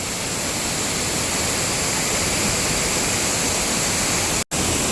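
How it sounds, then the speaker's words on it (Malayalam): Chillithodu waterfall in Adimali, Idukki roars in a loud, unbroken wash of falling water heard up close, broken only by a split-second gap near the end. "സൂപ്പറാണ് നമ്മുടെ ചില്ലിത്തോട്ടിലെ വെള്ളച്ചാട്ടം"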